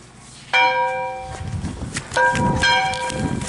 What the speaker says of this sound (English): about to ring that bell